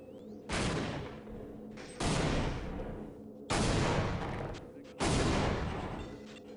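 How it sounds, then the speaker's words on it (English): Repeated heavy explosions and bursts of gunfire from a military shooter video game, four loud booming blasts roughly every one and a half seconds, each decaying into rumbling fire. "I can make explosions just fine on my own"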